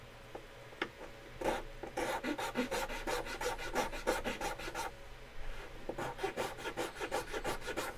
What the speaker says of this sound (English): I just don't want to go too far in this sanding.